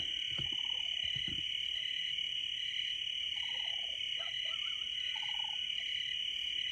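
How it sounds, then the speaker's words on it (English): A soft cooing call repeats a few times at a slow pace, close by, over a steady high insect drone at night. "I don't know what's making that cooing noise. It could be some kind of bird."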